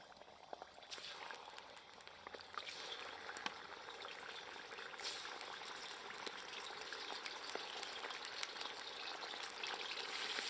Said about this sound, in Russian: Стенки казана хорошо смазываю маслом. И закидываем мясо.